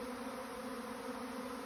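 A swarm of bees hums as a steady, dense drone all around, soft and continuous with no talking.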